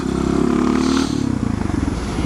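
An SM610 motorcycle idles and revs in low gear during slow wheelie practice, a steady close engine drone that eases off partway through into a pulsing, lumpy putter.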